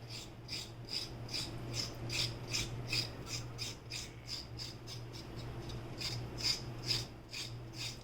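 The back of a kitchen knife scrapes repeatedly across food in a traditional, non-modernized kitchen, giving a close, rhythmic series of raspy strokes roughly twice a second with no talking.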